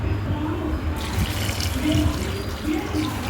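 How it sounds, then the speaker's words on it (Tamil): Water pours steadily into a pot of spices for goat trotter soup in a close, continuous gushing stream. "1 லிட்டர் தண்ணி ஊற்றிக்கணும்"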